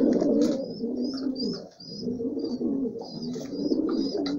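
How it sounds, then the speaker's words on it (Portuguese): Pigeons on the ground cooing in a loft, several overlapping low throaty coos close by, continuous apart from a brief lull, with faint higher chirps above. "Olha os pombos aí no chão aí, ó."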